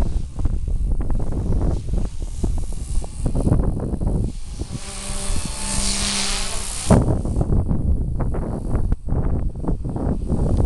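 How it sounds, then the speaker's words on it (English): Strong tropical storm wind gusts roar steadily across the microphone, around forty miles per hour, with a small 3D model aircraft's high buzzing whine rising and passing midway. "It's blowing right in my, wow, here we go, 40-mile-per-hour gusts."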